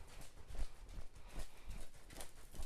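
A horse trots in a relaxed rhythm, its hooves clip-clopping in steady, evenly spaced beats over soft ground at moderate distance, with no talking.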